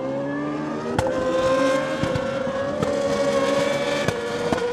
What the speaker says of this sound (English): There's plenty of overtaking action as Pons Racing's Jan Cunha comes to blows with Vittorio Girelli of Comtech Racing.